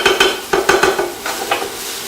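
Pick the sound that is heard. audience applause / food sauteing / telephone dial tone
food sauteing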